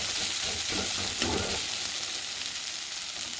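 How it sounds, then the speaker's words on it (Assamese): Ground leaves sizzle in hot oil for a dry fish dish, making a steady, close, bright crackling hiss with a few soft stirring scrapes early on. "এইখিনি ধুনীয়াকৈ ভাজি ল'ম আৰু অকণ"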